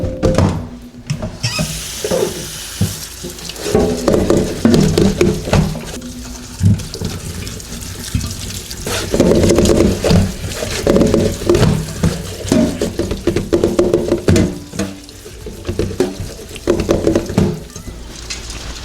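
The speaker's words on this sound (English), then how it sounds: "Let's give them a quick rinse." Tap water runs over cherries and blackberries being rinsed, a loud, steady splashing wash with knocks and rattles of fruit and a container shifting close by.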